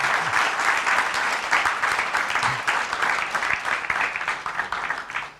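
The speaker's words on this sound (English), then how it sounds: "give a big round of applause to him." An audience at a business event gives a guest a long round of applause, a thick continuous patter of many hands that holds steady and only slightly eases toward the end.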